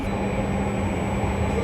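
LRT Jabodebek light-rail train pulling into Setiabudi station on curved track, a steady loud rumble of rolling wheels and carriage noise with a faint high-pitched whine throughout, no voices.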